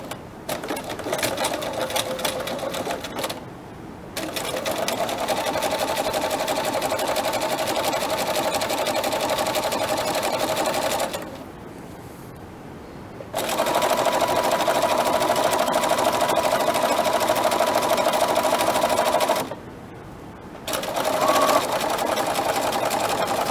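Sewing machine stitching a flat fell seam, running loud and steady in three long bursts separated by brief pauses, with no talk over it.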